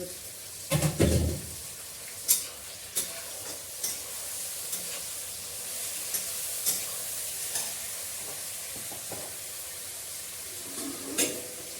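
Onions and tomatoes frying in a pan, a soft continuous sizzle with scattered clinks and stirring scrapes, fairly quiet and close, with a brief louder clatter near the start.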